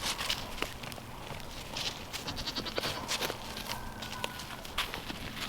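Goats bleat faintly in a pen, the calls coming intermittently among rustling and footsteps of the animals moving about, with a quiet, distant feel.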